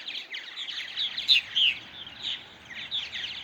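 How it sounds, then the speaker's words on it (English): Purple martins call in a continuous stream of high chirps and twitters, moderately faint and steady, with no talking. "there's something kind of magical about purple martins."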